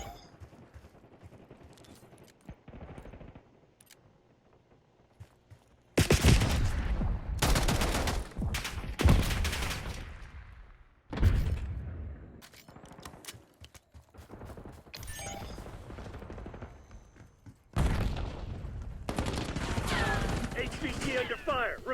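Gunfire rattles in Call of Duty: Mobile in loud, close bursts of rapid shots. The bursts alternate with quieter stretches of distant fire and game ambience.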